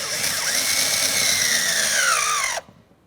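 A power tool with a 7mm socket driving mounting screws for a window regulator on a 2001-2005 Ford Explorer Sport Trac, whirring loudly and steadily as the pitch slides down under load before stopping abruptly.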